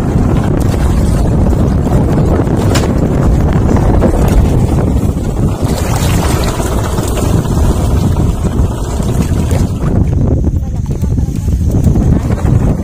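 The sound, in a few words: strong wind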